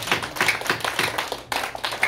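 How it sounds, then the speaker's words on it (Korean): A group applauding, steady clapping from many hands in a brisk, dense patter throughout. "자, 박수 한번 하십시오."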